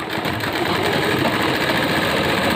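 A sewing machine runs steadily, stitching along the hem of a plazo pant leg finished with fabric patti and cutwork, a close, continuous mechanical whir without breaks and with no talking.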